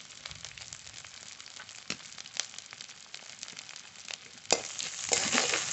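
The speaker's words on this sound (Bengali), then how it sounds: "মশলা ভালো করে কষিয়ে নিয়েছি।" Spices with salt and turmeric hiss and crackle in a pan while they are stirred. The frying is soft and uneven at first, then grows louder and busier toward the end.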